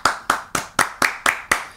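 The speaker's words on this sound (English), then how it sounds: "Jazz clap. Jazz clap." Eight sharp hand claps in a steady, even rhythm, crisp and close, with no voices.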